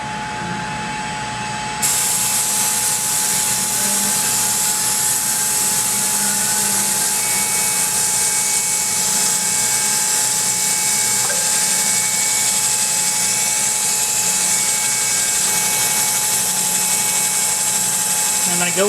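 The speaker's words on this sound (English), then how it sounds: "I'm going to be using the little Noga Mini Cool to spray on this while I cut it." Roughing endmill being ground on a cutter grinder, with a Noga Mini Cool spraying coolant onto it: a steady, loud broadband hiss of spray and grinding that runs continuously after a brief quieter start, with faint talk underneath.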